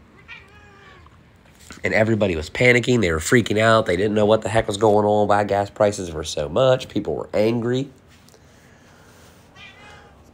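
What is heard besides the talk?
domestic cat meowing for attention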